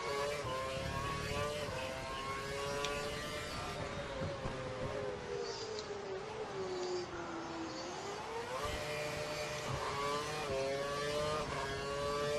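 A Formula 1 car engine in the F1 2012 racing game at the Indian Grand Prix, a loud continuous high whine whose pitch drops through a corner and then climbs again as the car accelerates.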